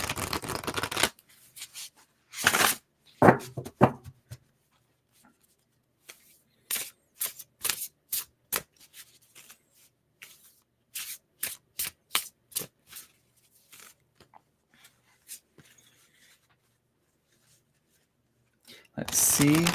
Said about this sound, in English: I should be shuffling this to get the card guessing numbers ready